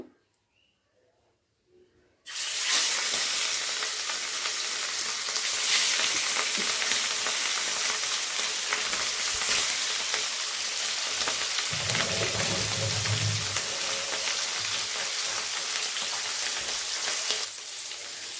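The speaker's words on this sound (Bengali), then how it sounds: "তো মাছগুলো ভাজার জন্য আমি এখানে একটি কড়াই বসিয়ে দিয়েছি" Katla fish drop into hot mustard oil in a wok and burst into a loud, steady sizzle that carries on without a break after a quiet start, with no talking.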